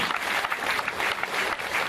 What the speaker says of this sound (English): Round of applause for our chief guest again for the wonderful address.